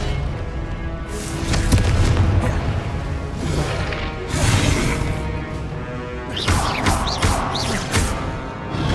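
Confringo spell blasts in Hogwarts Legacy land as several heavy booms and crashes spaced a few seconds apart, with rapid sharp impacts near the end, all over a constant rumbling game backdrop.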